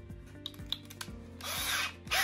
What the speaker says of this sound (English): Now I'm gonna show you how easy it is to drill the plate.